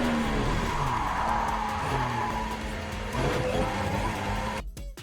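Valtteri Bottas's Formula 1 car weaves behind the safety car and spins out, its engine note shifting under a loud, harsh wash of tyre noise before cutting off abruptly near the end.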